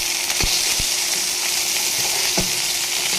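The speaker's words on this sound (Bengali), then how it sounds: "এটা একটু বেশি সময় ভাজতে হবে" Flat beans and mustard greens frying in a pan with a little salt, a constant close sizzle broken by a few soft stirring knocks.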